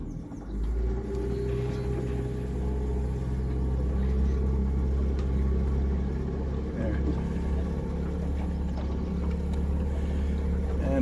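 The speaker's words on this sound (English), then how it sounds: "So I don't know if you heard the motor bouncing a little bit, but we're on a sandbar" A tiny houseboat's motor drones steadily with a low rumble while the boat scrapes over a shallow sandbar, and people talk throughout.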